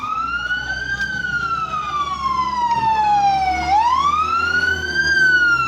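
A loud wailing fire truck siren rises and falls in long sweeps, close by, over a low rumbling engine, with no voices heard.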